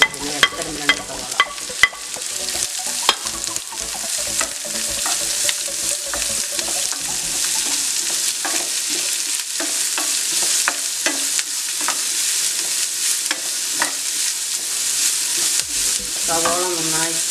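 Finely chopped onions fry in a pan for a squid roast, with a steady close sizzle broken by repeated spoon-against-pan clinks and scraping stirs, loud and with no voices over it.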